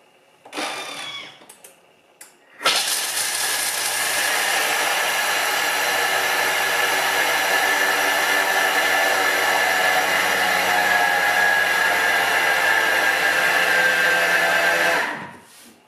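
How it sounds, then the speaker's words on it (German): A Thermomix TM5 grinding almonds at speed 10 makes a loud, steady high-pitched whirring roar for about thirteen seconds, preceded by a few brief clatters and ending abruptly. "Auch die Mandeln mahlen wir jetzt 10 Sekunden auf der Stufe 10."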